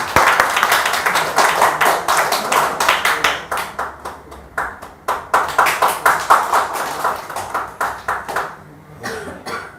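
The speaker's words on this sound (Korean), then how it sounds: "박수로 환영해 주세요" Audience at a seminar clapping to welcome a speaker, a dense burst of many hands that thins into scattered, separate claps and trails off near the end.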